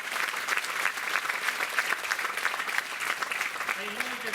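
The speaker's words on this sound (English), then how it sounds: "You deserve a big applause." Audience applauding graduates at a nursing and allied health sciences convocation, a steady, dense wash of many hands clapping throughout, with a faint voice briefly surfacing near the end.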